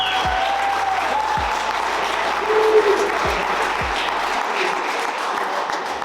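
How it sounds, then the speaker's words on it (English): Sustained audience applause fills a room after a presentation on an equine treatment approach, steady dense clapping throughout with a few low thumps underneath, fairly close and loud. "Can we please give a round of applause to you?"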